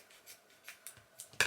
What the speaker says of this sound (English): I've just managed to cut right through the middle there.